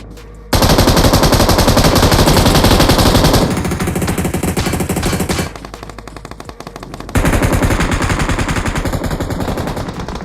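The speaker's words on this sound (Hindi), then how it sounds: "तीन पोरे एक साथ मिलके गोली चला रहे" Sustained automatic gunfire in BGMI (PUBG Mobile), M416 and several players shooting together, loud dense bursts running nearly continuously with a brief lighter stretch before the heavy firing resumes.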